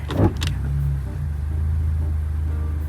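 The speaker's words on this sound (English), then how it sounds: "So here we go, starting the car." A 10th-generation Honda Civic with a CVT transmission idling just after starting, a low steady engine rumble close by with a brief thump at the start, no talking.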